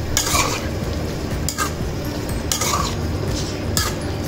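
Kaaramani gravy with oil and coconut milk being stirred in a pot: repeated close scraping and clinking strokes against the metal at an uneven rhythm, under a steady low cooking rumble, with no talking.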